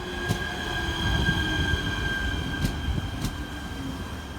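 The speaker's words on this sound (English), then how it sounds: "And here's the train." A train in Bulgaria rumbles steadily into a station with a mechanical hum and faint squealing of wheels, a few sharp clicks and hisses cutting through, no voices.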